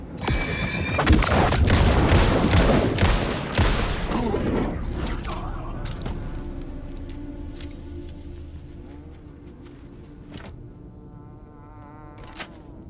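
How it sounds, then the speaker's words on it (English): Rapid bursts of loud gunfire in the video game Alan Wake 2 rattle off at first, then thin out into sporadic, echoing shots and mechanical clicks. "you might have heard some gunshots out here in the hall."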